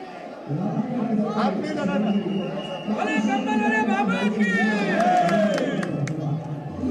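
A crowd of devotees at a blanket-wielding baba's gathering chants and shouts praise, a dense mass of overlapping voices with rising cries and whoops, loud and continuous.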